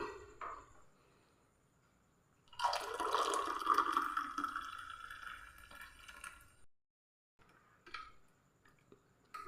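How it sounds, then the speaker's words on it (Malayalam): Milk-free tea strained and poured into a cup makes a soft, splashy pouring stream lasting about four seconds, followed by a few faint drips in a quiet room. "നമ്മുടെ ഈ ഒരു കപ്പിന് അളവായിട്ടുള്ള ചായ നമ്മളിതിലേക്ക് അങ്ങ് അരിച്ചങ്ങ് ഒഴിച്ചു കൊടുക്കാം"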